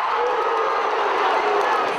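A stadium crowd at a Brazilian women's football match roars and cheers after a near goal, a steady, dense wall of voices filling the whole stretch without a break.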